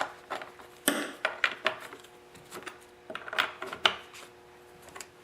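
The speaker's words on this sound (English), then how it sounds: "I'm going to hold the bar up again and tighten up the two nuts" The two bar nuts on a Husqvarna 45 chainsaw are tightened by hand, making a series of sharp, irregular metallic clicks and ratchet-like taps, close and fairly quiet.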